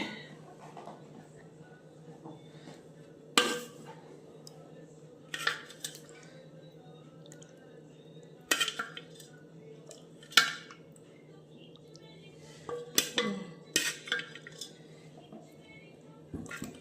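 Plates and cutlery clink sparsely and softly during a home meal of fatty meat. Faint scrapes and taps come at irregular intervals over a quiet, low room hum.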